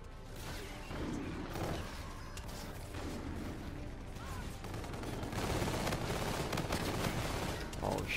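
Rapid, dense gunfire fills a Call of Duty Infinite Warfare team deathmatch online match, with repeated sharp bursts and crashes at steady loudness throughout, which could include sniper rifle shots among the overlapping fire.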